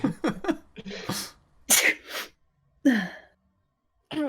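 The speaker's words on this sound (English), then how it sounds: "You sneeze." A sneeze bursts out sharply, preceded by quick breathy intakes and followed by another loud exhalation, close and clear with no talking.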